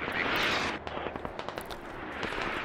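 A BTR armoured vehicle in the Squad video game fires its gun in a rapid string of distant-sounding shots, each a short sharp crack, coming through after a brief whooshing rush and continuing in an uneven burst.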